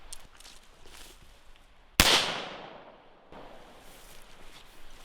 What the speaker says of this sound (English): We're going to try and put one shot right in the chest region right here from a few feet behind him